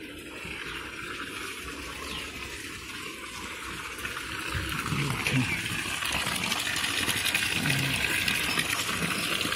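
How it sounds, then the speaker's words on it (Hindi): Water pours down from the mountain at the hillside Kevdeshwar Mahadev temple on Jaisamand Road near Udaipur, a continuous rushing wash that grows louder partway through, heard alone. "ऊपर से पानी भी गिर रहा है, जो पहाड़ों से आ रहा है"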